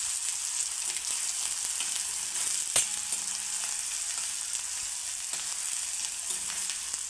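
Thinly sliced onions sauté in a pan with a continuous moderate sizzle. Occasional scrapes and taps from stirring break through, and one sharper knock lands near the middle. No voices.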